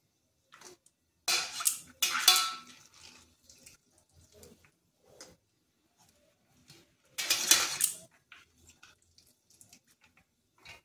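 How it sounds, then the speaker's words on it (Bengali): Water is drained out of a pot of boiled greens and potatoes in a home kitchen, with a few short splashy pours separated by quiet stretches and small clinks, close and without talk. "এরপর এভাবে জলটা ঝরিয়ে নিচ্ছি"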